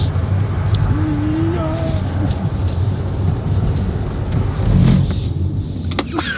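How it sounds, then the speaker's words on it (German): Hyundai IONIQ 5 electric car drifting in Sport mode, a steady broadband roar of tyres and wind with a rising whine, brief louder surge near the end, voices faintly present. "wir sind halt gedriftet"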